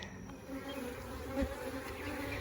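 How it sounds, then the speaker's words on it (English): Dense, continuous buzzing of many honey bees around a hive, a low droning hum with individual bees flying close by now and then. "This hive is just full of bees."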